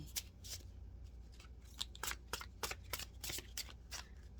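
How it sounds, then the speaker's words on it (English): Crisp, rapid riffling of tarot cards being shuffled, several bursts of flicking snaps close by with short pauses between. "See if they give us one more card here. One more shuffle."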